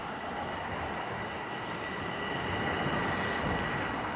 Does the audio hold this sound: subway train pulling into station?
yes